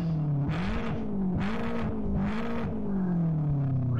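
A Ferrari Dino 246 GT engine in the Live for Speed racing game revs and accelerates, its droning tone climbing and dipping in three surging pulses, close and steady.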